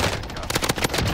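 Video game gunfire in a team shooter, a rapid automatic burst of shots packed close together across about a second, loud and near, with faint voice chat mixed in.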